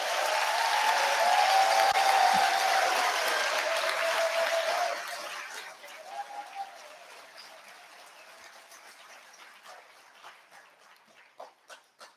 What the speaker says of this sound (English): please give yourselves that applause you practiced earlier.